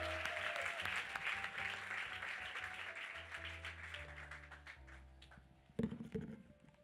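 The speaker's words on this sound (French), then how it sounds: "Sous vos acclamations pour le Seigneur." Congregation applause at a church service, a steady wash of clapping that gradually thins out over several seconds, with music or keyboard tones beneath and a brief louder burst near the end.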